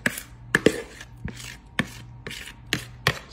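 Pudding cake filling scraped out of a bowl with a utensil, heard as a series of sharp, close scrapes and taps spaced roughly half a second apart over a low background hum.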